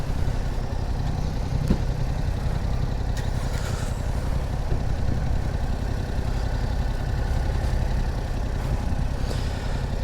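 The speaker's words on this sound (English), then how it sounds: "This is the worst sounding bike of all time" A motorcycle engine idles steadily at close range, a constant low rumble lasting throughout with no speech over it.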